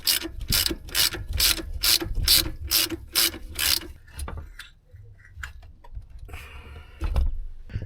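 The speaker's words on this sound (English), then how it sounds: "now we're gonna remove the harmonic balancer and the lower part cover" A hand ratchet clicks rapidly in a fast, even run of close, crisp ticks while loosening the harmonic balancer on a Chrysler 300 engine, then stops and gives way to quieter shop noise.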